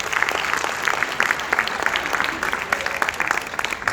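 Steady audience applause at a live poetry recital, a dense wash of many hands clapping continuously for about four seconds, fairly close and full, with no talking over it.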